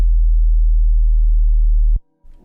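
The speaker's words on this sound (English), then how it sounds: "we move on to the sub bass, which is really easy. Just a sine wave" A pure sine-wave sub-bass synth built in Native Instruments Massive holds a steady, loud low hum for about two seconds, then cuts off abruptly, followed by a brief quieter low tone.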